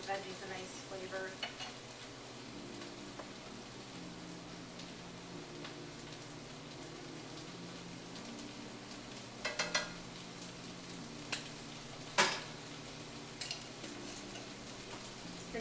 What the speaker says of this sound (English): the veggies are cooking